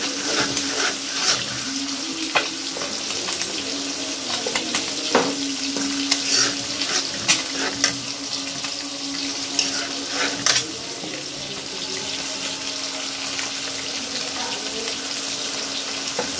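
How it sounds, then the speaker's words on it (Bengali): Egg curry with salt cooking in a pan on a home stove: a steady, moderate sizzle and bubbling continues throughout, with occasional soft clinks and scrapes from stirring. "ডিম তরকারি বসাচ্ছি বন্ধুরা"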